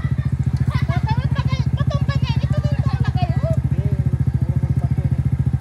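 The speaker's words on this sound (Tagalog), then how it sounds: "Grabe ang motor ko, oh." A motorcycle engine idles close by in a fast, even putter, loud and continuous, while people talk over it for most of the stretch.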